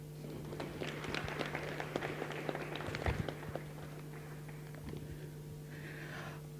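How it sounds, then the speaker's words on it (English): Modest, scattered applause from an audience at a public service fellowship ceremony, fairly faint and thin, tapering off after a few seconds with a steady low hum underneath. "can you give him a moment of applause?"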